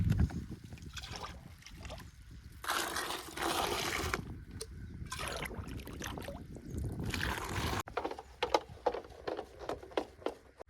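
Pesticide liquid is poured from cans into a sprayer tank for spraying a chickpea crop, heard as several splashing, gurgling pours in uneven bursts, close by and fairly loud.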